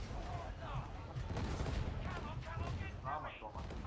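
Sniper rifle gunfire in a first-person video game sounds as dense, continuous crackling shots and booms through a busy battle mix, with players talking over it throughout.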